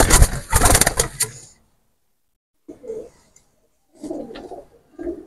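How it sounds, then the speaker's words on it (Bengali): Two Chinese Teddy pigeons, a male and a female, just released, make a few soft, low coos in short bursts after an opening flurry of wing flaps or handling noise, close by with quiet gaps between. "এই যে দুইটা কবুতর ছেড়ে দেখাচ্ছি আমি।"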